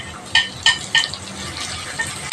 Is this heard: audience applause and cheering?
no